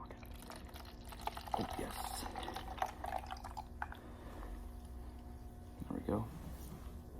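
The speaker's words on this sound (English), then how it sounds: "let's finish the pour while we're still talking" Carbonated orange water, chilled from the fridge, trickles and splashes from a bottle into a container with soft fizzy pouring and dripping sounds, while someone talks briefly over it.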